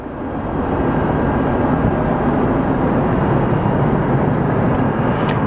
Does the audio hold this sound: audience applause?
no